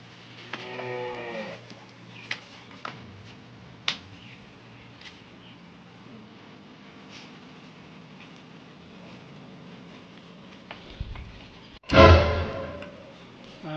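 A cow moos once at the start, a low drawn-out call, followed by quiet background with a few clicks and a loud thump near the end; no speech.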